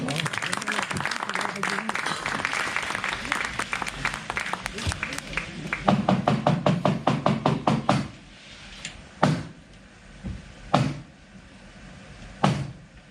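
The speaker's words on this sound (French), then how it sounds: "on les applaudit bien fort" A theatre audience claps before a courtroom play begins, dense applause fading into a few sharp isolated claps and knocks near the end, with a voice speaking early on.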